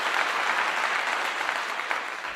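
Several seconds of dense, steady clapping carry on without pause, fairly loud and close, with no speech over them.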